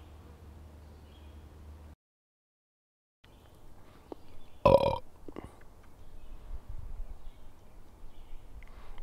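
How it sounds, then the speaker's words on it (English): A single short burp, loud and close, after a brief silence, with faint room noise around it. "That burp won't make the cut"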